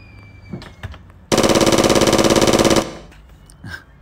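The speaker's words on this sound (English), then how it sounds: "Put a big long machine gun." A long machine gun sound effect fires a loud, rapid, continuous burst of about a second and a half, standing out sharply from quieter background sounds before and after.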